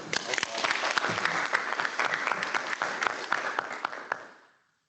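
A school board meeting audience applauds the school staff in a steady burst of many hands clapping, fairly loud and close, then fading out at the end.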